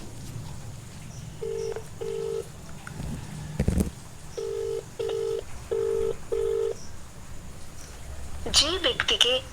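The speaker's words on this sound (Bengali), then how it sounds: "এবার আমরা ওকে একটু ফোন করি।" A phone call is placed: a series of short touch-tone dialing beeps sound in steady succession, then a ringback tone begins. A voice speaks over a low background hum.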